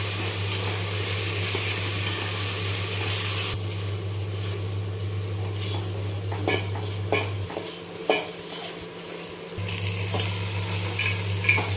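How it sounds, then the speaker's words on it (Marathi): Washed rice fries in oil inside a pressure cooker while being stirred, a continuous sizzling hiss with scraping spoon strokes over a steady low hum, the hum briefly dropping out near the end. "मिक्स करून घ्यायचं पूर्ण तेलामध्ये पूर्ण फ्राय झाले पाहिजेत हे तांदूळ"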